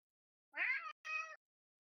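A cat gives two short meows in quick succession, quiet and distinct against silence.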